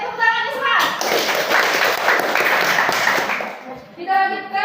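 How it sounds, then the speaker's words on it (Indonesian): A school class claps hands together for a few seconds, a dense burst of scattered clapping rising between moments of a teacher's speech at the start and end. "Ayo tepuk tangan semua."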